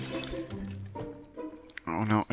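Glass shatters in the Happy Wheels video game, a bright crash with scattered clinks that sits among game sounds and short bursts of noise.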